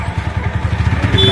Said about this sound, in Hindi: मुझे भी बिठा लो जरा अपनी बाइक में